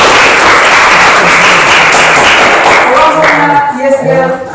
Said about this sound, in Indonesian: Saya memberikan penghargaan untuk kalian semua dengan tepuk tangan.